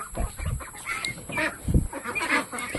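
Poultry calling on a Filipino farm where ducks, chickens and turkeys are kept, with honks and clucks coming in short irregular bursts close by.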